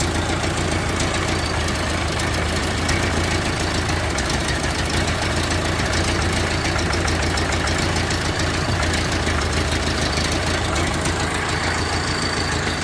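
A Model A Ford pickup's four-cylinder engine running on all four cylinders, a loud, constant, close mechanical chugging and rattle that holds steady at idle for the whole stretch, with no voices.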